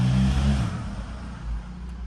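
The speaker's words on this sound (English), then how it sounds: "I drove earlier, so it's not gonna be a cold start." An Infiniti G37 with a louder aftermarket exhaust starts warm, giving a deep, close engine rumble that is loudest at first and then settles to a steadier drone.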